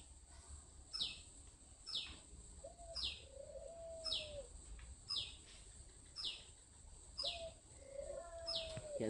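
A spotted dove coos softly near its cage in a rural yard, repeating a short rising call several times at even intervals, with faint chirps and light background noise.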